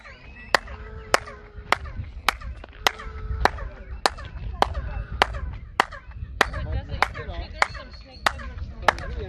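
Sharp handclaps repeat at a steady pace at the Maya pyramid of Chichen Itza, Mexico, about fifteen in all, each followed by a chirping, bird-like echo, with faint voices in the background.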